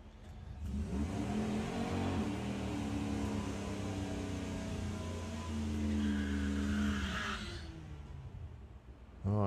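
A Volkswagen Golf drag car revs loudly at the start line of a Santa Pod drag strip during a Bug Jam qualifying round, its engine note holding a steady, sustained roar before easing off near the end.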